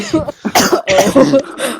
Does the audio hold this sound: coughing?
yes